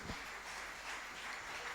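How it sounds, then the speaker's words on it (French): Concert audience clapping steadily in a café venue, a dense continuous wash of applause heard from within the crowd, moderately loud and unbroken. "Alors vraiment, nous les applaudissions et nous les encourageons."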